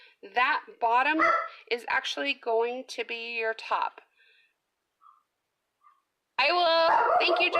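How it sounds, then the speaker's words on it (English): A dog barks and yips in short bursts mixed in with close talk, stopping during a quiet pause before the voices and barking pick up again. "if you can hear me, my dog's barking"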